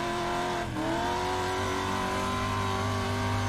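Race cars in a 2X4 Pro Truck Series event roar in a steady, loud engine drone, with a brief dip as one car draws alongside and passes on the right, then the sustained engine note carries on.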